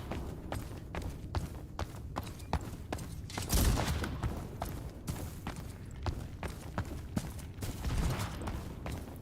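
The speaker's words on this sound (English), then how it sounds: "I'm hearing gunfire." Rapid bursts of gunfire in the video game Anchovy Game crackle repeatedly over a busy background of footsteps and thuds, with one louder blast near the middle.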